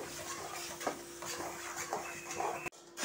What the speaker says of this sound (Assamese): এতিয়া গুড়খিনি এনেধৰণে লৰাই থাকিব লাগিব ভালদৰে গলি নোযোৱালৈকে।